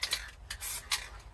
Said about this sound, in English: I'm just doing it in short, sharp bursts, making sure that I'm only getting a light spray in there